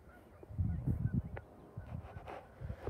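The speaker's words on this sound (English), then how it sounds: "There's geese everywhere." Geese honking outdoors, several calls overlapping in an irregular chorus at moderate distance, with occasional louder nearby honks.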